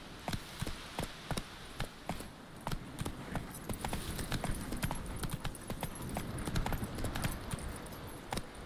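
Horse hooves clip-clop steadily on ground in The Witcher 3: Wild Hunt, a quick, even run of close, crisp hoofbeats with a light ambient bed behind them.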